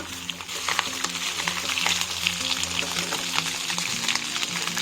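Duck scraps of meat, skin and fat sizzle steadily in a pan while being scraped off the bottom during browning for homemade duck stock, a close, continuous frying hiss with scraping strokes.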